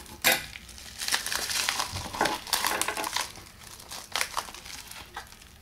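A package being cut open and unwrapped with loud, crackling plastic crinkles and rustles in irregular bursts, close by and with no talking.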